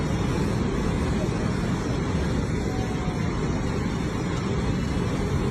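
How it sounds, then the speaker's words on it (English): A truck dumps sand onto a road, a steady, dense rushing roar with rumbling low end that holds evenly for several seconds without a break. "A truck is dumping sand on a road."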